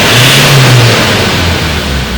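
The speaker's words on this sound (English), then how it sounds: "Okay, I'm gonna rev the car now." Ford Ranger engine revved hard at wide open throttle, a loud close roar that climbs in pitch for about a second and then falls away as the throttle closes.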